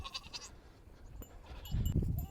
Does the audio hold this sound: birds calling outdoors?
no